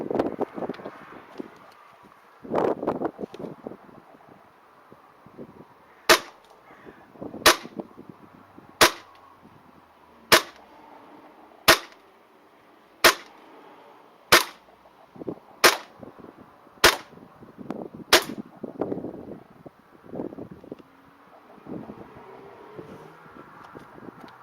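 About ten sharp shots from a KJ Works KC02 CO2 pistol running on a fresh 12-gram CO2 cartridge crack out at a steady rhythm, with handling noise and wind rumble around them.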